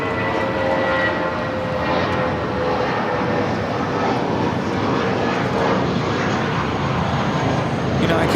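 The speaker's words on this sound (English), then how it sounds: "This is Emirates Flight 216 Super taking off to Dubai on the A380." An Emirates Airbus A380 takes off from Los Angeles International Airport, bound for Dubai, its jet engines producing a loud, steady, broadband roar that stays close and constant for the whole stretch, with no voices over it.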